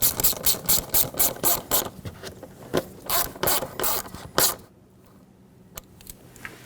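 A hose clamp screw on a 2008-2020 Dodge Grand Caravan 3.6L engine tightened with a ratchet, giving a run of quick close clicking strokes, then a pause with a few faint clicks.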